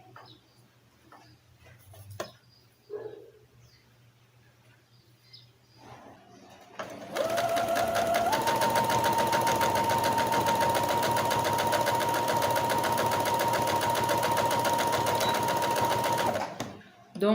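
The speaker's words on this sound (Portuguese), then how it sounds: "Costurei uma manga de um lado, vou costurar do outro." Sewing machine stitching the sleeve fabric of a doll, starting after a few quiet seconds of handling and then running continuously in a fast, steady mechanical whir for about nine seconds before stopping.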